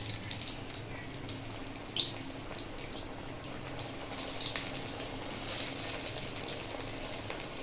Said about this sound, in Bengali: পরে এগুলোকে আমি আরেকবার ভেজে নেব।